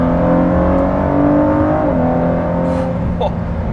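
A powerful hypercar engine roars loudly and steadily under a quarter throttle stab, its pitch rising then easing off, with a brief faint voice near the end.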